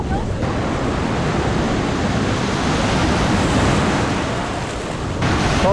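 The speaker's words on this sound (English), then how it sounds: "The waves here are not a joke" Big strong ocean waves at Copacabana Beach roar in a steady, loud surf wash with heavy wind noise on the microphone throughout.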